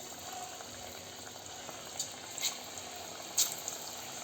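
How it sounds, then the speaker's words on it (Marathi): Cabbage bhaji frying in hot oil, a soft, steady bubbling sizzle at low level with a few brief louder crackles and spatters, no speech. "भजी तळण्यासाठी तेल तापवलेलं आहे. आता आपण भजी सोडूयात."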